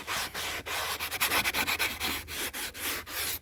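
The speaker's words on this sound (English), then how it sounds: "I'll just hit it with the sandpaper" Sandpaper rubs over the repaired roof lining of an Alfa Romeo 147 in quick, close back-and-forth strokes, each a short rasping swish in an uneven rhythm.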